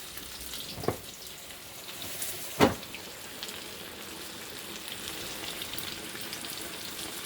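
Fish dropped into hot oil for crispy soul food fried fish, a sharp splash-like burst then a loud continuous frying crackle, with an earlier brief clatter.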